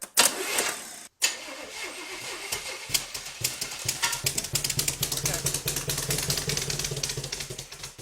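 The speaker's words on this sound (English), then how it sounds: "we got a running motor" A car engine cranks, stalls briefly, then catches and keeps running with a rough, uneven idle, with some voices in the background.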